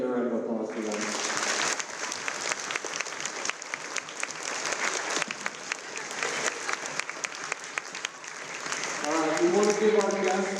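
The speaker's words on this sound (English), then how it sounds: "let's get a round of applause for them" Audience applause filling a school assembly for a Martin Luther King Jr. Day event at a middle school, steady dense clapping for several seconds with voices and music-like tones rising near the start and end.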